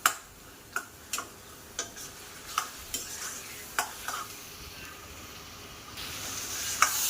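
Curry leaves, black pepper and bay leaves with potatoes in hot oil, a steady faint sizzle broken by about a dozen sharp ticks and spatters, close and with no one talking.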